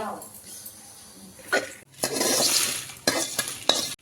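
Cardamom and whole spices fry in a pan for garam masala, with scraping stirs, light crackling sizzle and brief bursts of clatter over a few seconds.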